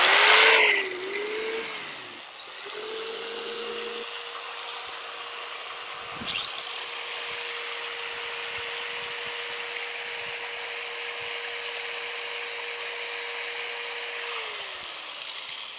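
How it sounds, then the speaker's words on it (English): A jigsaw and an angle grinder run together off a DJI Power 1000 portable power station: a steady, loud, high whine and buzzing drone held for a long stretch, with a brief dip in pitch near the start and a tapering off at the end. "this should easily be able to handle the jigsaw and the angle grinder at the same time."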